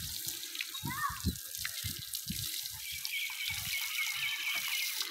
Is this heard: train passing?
no